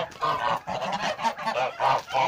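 A small flock of breeding geese, including a grey gander and white geese, honk loudly and close by in repeated rapid bursts, several calls overlapping.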